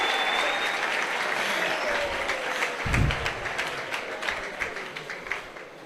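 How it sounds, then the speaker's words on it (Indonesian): Audience applause at a religious talk on Isra' Mi'raj, a dense steady clapping wash filling the whole stretch, with a few louder claps and some voices murmuring underneath. "Tepuk tangan loh."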